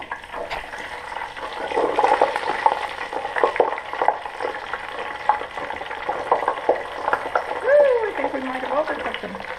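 Breaded shrimp deep frying in an electric deep fryer, a steady bubbling sizzle running throughout with clinks and a voice speaking over it.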